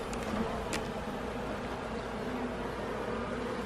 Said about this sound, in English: There's a drone right here. See this big bee?